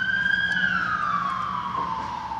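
A loud siren wails nearby, one long tone gliding slowly downward over a low background hum.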